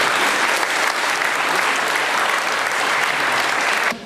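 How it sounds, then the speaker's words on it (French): An audience at a ceremony in Le Havre applauds a team loudly, dense sustained clapping from a crowd that stops abruptly at the end. "je vous demande de les applaudir très fort"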